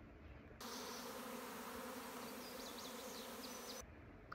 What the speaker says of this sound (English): If you see a honeybee swarm, meaning tens of thousands of bees clustered together